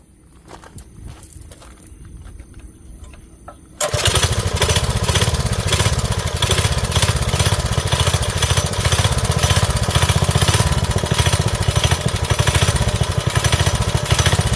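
A turbocharged Honda CB750 pro-mod motorcycle engine: a few seconds of quiet handling and faint clicks, then the engine catches and runs loud and steady, a dense close-up roar that holds to the end.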